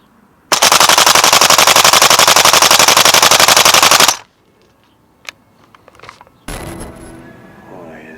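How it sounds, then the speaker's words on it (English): A VFC AK74M gas blowback airsoft rifle fires a long full-auto burst of about three and a half seconds, a loud, rapid, even rattle of clacking shots, followed by scattered clicks and handling noise. "easily blast through the 42 rounds in one squeeze of the trigger"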